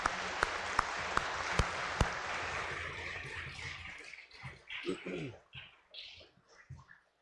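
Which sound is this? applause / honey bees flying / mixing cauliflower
applause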